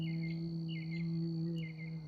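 Insects chirp at night in short repeated bursts, roughly every three-quarters of a second, over a steady low tonal hum.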